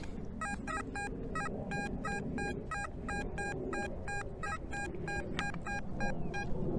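A metal detector gives a steady series of short electronic beeps in a quick, even rhythm over a faint background hum, signalling a target by a tree.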